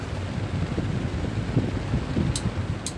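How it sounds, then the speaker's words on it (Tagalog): A repaired electric stand fan fitted with a new 2 microfarad capacitor runs steadily, a close, even whooshing hum of air with a couple of faint clicks near the end and no talk. "may napakinabangan na naman akong bagong repair na electric fan"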